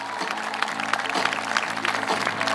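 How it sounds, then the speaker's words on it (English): A rally audience in King, North Carolina gives a brisk round of clapping. The applause is steady and a little distant, with a murmur of crowd noise. "Another round of applause for him, please."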